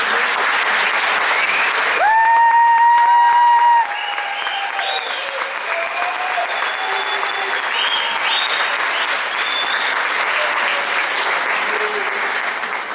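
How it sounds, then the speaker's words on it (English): Audience applause for the All City Band kids at a school band concert, a dense, steady clapping from a large crowd that swells briefly near the start and then holds evenly throughout. "please join me in giving these kids a big round of applause"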